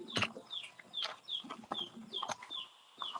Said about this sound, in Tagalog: Kanindot sa sound sa mga manok.